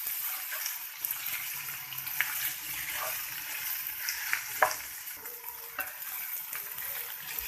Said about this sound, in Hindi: गाजर और मेथी अच्छी तरीके से भुन गया है